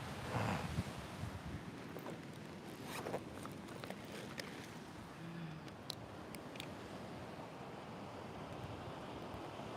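Waves wash steadily onto a beach with wind buffeting the microphone, a continuous roar with some brief rustling bursts near the start.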